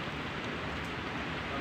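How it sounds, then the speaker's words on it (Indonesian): Steady rain falls outdoors near rice fields in Merak, a dense, even hiss of drops hitting surfaces with no pause across the short stretch. "Lagi hujan ini, teman-teman."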